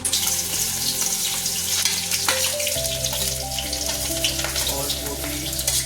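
Schezwan fried rice sizzling and frying in an iron wok in a village kitchen, a loud continuous hiss with stirring and a steady hum underneath, close up.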